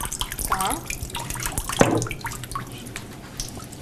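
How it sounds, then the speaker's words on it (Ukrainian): Water drains and trickles from a papermaking frame as hand-scooped paper is formed, giving a steady wet splashing and dripping with a few sharper splashes, fairly close and moderately quiet. "Чекаємо, доки збіжить вода, знімаємо верхню рамку."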